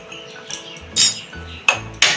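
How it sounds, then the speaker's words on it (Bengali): Metal spatula stirring pomfret fish pieces through curry gravy in a pan, with scattered scraping clinks and a few sharp knocks against the pan, close and alone. "মাছগুলো গ্রেভির মধ্যে ভালো করে নাড়িয়ে দিচ্ছি"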